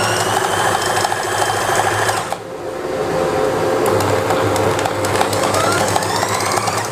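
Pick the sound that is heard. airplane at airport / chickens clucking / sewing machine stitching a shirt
sewing machine stitching a shirt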